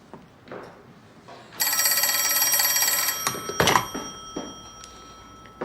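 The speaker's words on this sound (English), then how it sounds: "Prime Minister on the phone for you." An old-fashioned telephone bell rings loudly and steadily in an office setting in 1942 New Zealand, one sustained ring burst followed by a short clatter, with no speech over it.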